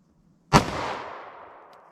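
A single sharp pistol shot from a .380 ACP +P round with Underwood Xtreme Defender ammunition, loud and close after a brief silence, with a reverberating tail that fades over about a second.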